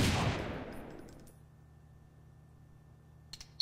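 A SPAS-15 Dragon shotgun fires in the online shooter AVA, one loud blast up front whose roar decays over about a second into quiet, followed near the end by a couple of small sharp clicks.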